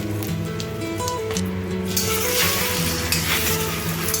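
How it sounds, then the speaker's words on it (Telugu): An omelette fries in oil in a kadai, a steady close sizzle with a humming background tone and a few faint clatters of the pan. "ఆయిల్ వేసి ఆమ్లెట్ లాగా వేసుకొని ఫ్రై చేసుకోవాలి"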